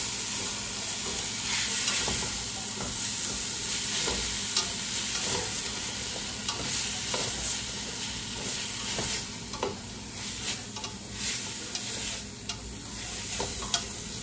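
Tuna and kale fry in a pan with a steady close sizzle, while a utensil scrapes and stirs in irregular strokes and soft ticks throughout.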